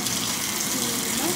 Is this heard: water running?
yes